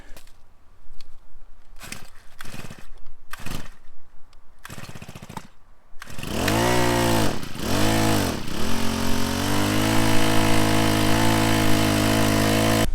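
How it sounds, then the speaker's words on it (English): Small gas-powered pump moving maple sap into a sugar house: a few pull-start tugs, then the engine catches, sputters through a couple of dips, and settles into a loud, steady running drone close by. "this one, I just use a gas pump, and it pumps right up into the sugar house"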